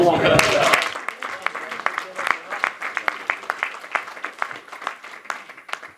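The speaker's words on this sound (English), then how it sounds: "I think you deserve a round of applause for that, man" Applause at a boxing press conference starts as a brief dense burst under a voice, then thins to scattered, distinct individual claps that keep going irregularly and fade.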